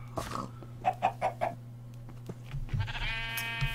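Sheep in the Minecraft video game give a few short, quick bleats early on over a steady low hum, then a softer rising sound near the end.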